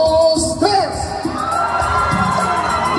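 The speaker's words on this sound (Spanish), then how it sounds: "que se escuche un grito del lado derecho, a la de tres" A concert crowd at a live regional band dance in Mexico yells and cheers on cue from the right side, a loud, sustained wash of mixed voices and whoops that carries straight through without a break.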